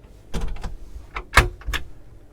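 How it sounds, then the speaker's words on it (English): A wardrobe door in a Riviera Open 39 Flybridge yacht cabin slides and closes with a few soft, close knocks and clicks, ending in a sharper thud, with nothing else around it. "If we close that door across"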